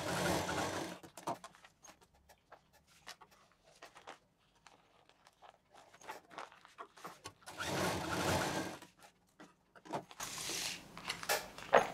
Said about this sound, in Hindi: इसको इस तरह से कॉर्नर मिलाते हुए इसको सिल देंगे